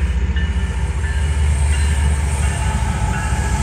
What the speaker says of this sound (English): We got another train coming through.